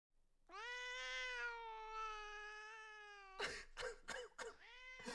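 A cat caterwauls in the background of a call, one long drawn-out meow held for about three seconds, then a quick burst of shorter, choppier yowls. Faint and alone with no talk over it.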